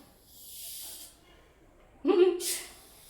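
Soda fizzing as it is poured into a glass over melting ice, a soft hiss early on, then a louder, brief bubbling burst partway through.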